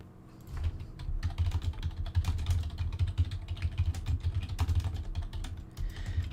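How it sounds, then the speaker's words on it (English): Steady clatter of computer keyboard typing, close and fairly loud, with quick irregular keystrokes over a low background hum during an online discussion session. "Sorry about the typing."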